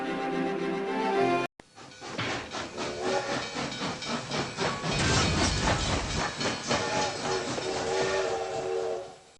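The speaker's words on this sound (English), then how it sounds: "I'm standing between two trains that have run out of track." Trains on a railroad in the USA Explorer video game give a loud hissing burst of steam, then a long rhythmic chugging churn with whistle-like tones.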